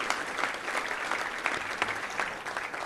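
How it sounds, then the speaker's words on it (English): Sustained applause from a room of guests honouring visiting Arkansas State Red Wolves at a Little Rock Touchdown Club luncheon, dense steady clapping filling the space without a break. "Let's give a big round of applause to all those fine Red Wolves here today"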